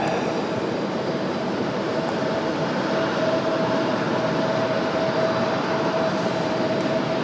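An Aeromexico airliner passes at Raleigh-Durham airport, a steady broadband jet roar that holds at an even, fairly loud level the whole time, with a faint whine riding along through it and no voices.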